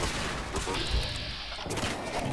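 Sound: gunfire in the video game Fallout 4

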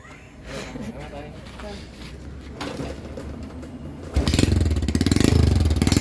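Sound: motorcycle starting and exhaust sound

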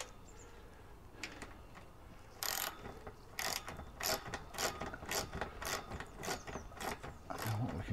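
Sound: Allen key tightening nut on swing

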